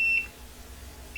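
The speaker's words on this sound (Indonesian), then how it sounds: "buzzer akan menyala ya" An Arduino PLC annunciator panel alarm buzzer gives two short high beeps, one at the start and one at the end, with a low hum in between, close and clear.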